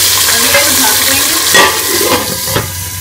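Browned onions sizzle and fry in a pot while a spoon scrapes and stirs through them several times, loud and close, with no voices.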